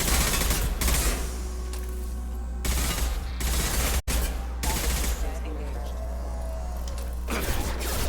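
Gunfire from hostile forces in the Mass Effect 2 video game, bursts of rapid automatic shots coming in loud clusters with short pauses between them and voices talking underneath.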